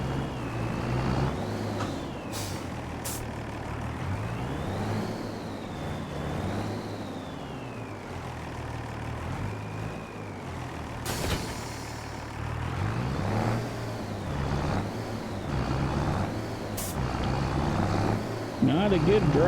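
A tractor engine drones steadily in Farming Simulator 25, its low, even rumble running throughout, with someone talking over it.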